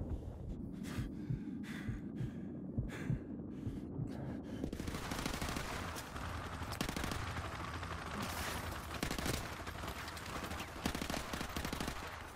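Stun grenade effect in Call of Duty: Modern Warfare Remastered, a sharp bang followed by a long muffled, ringing wash of sound with dull thumps and distant gunfire underneath.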